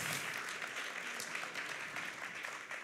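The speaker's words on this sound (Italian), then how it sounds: "Accogliamoli con un applauso" Audience applause greeting award winners from a Modena salumi maker at a responsible-innovation prize ceremony; steady, fairly faint clapping from a crowd fills the whole stretch without a break.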